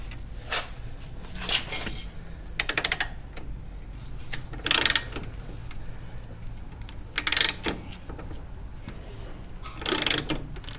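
A ratchet wrench works on the front suspension of a 1971 Opel GT, giving several separate short bursts of fast clicking against quiet shop background, with faint clanks between them.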